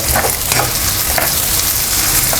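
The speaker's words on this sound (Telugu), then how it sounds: "ఇది వేసి మంచిగా ఫ్రై అయ్యి ఆనియన్స్ ట్రాన్స్పరెంట్లోకి మూవ్ అయ్యాక" Onions and green chillies fry in a pan for chickpea biryani, a loud, close, continuous sizzle with occasional stirring scrapes.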